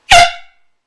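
A single loud air horn blast, a short harsh blare that cuts off sharply and leaves a brief fading tail, heard close and alone.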